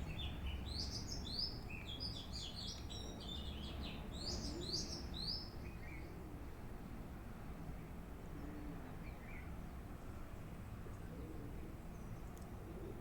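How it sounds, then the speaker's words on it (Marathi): A migratory spring-visiting bird chirps in quick, bright bursts of tweets for the first half, then gives a few sparse calls over a steady low background rumble, fairly quiet overall. "पाहुणा पक्षी आलेलाच आहे वसंत ऋतूत असतो तो"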